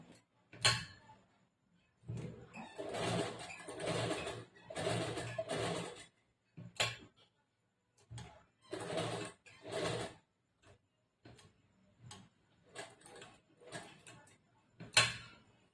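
A sewing machine stitches blouse fabric for a back-neck design in short, quiet runs of about a second each. Uneven pauses separate the bursts while the fabric is turned.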